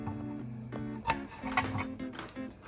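A utensil scrapes and clinks against a pan while mushrooms are stirred, with a few close metallic taps over a steady humming background.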